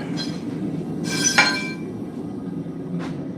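At a forge, a hammer strikes a three-pound metal billet with one sharp, ringing clang, with lighter metallic taps around it over a steady background roar.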